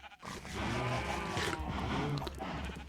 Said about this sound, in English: Okay, let's knock out some cows here.